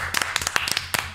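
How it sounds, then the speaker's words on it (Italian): Audience applause welcoming a guest, Morgan, onto an Italian podcast set, a short burst of scattered hand claps from a small group, close and moderately loud. "Io aspettavo solo l'applauso"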